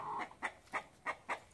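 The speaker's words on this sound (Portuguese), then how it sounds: "O galo tá com ciúme." A farmyard rooster on a small rural property gives five short, evenly spaced clucks, fairly close and clear, with no talking over it.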